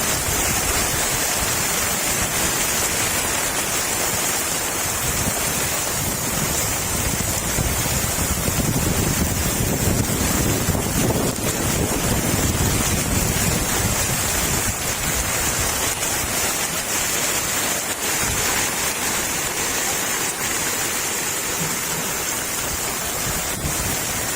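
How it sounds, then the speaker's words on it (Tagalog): Strong wind and heavy rain during a storm in Malabon roar as steady broadband buffeting, with wind rumble hitting the microphone throughout and no voices. "Masyado na pong malakas ang hangin to."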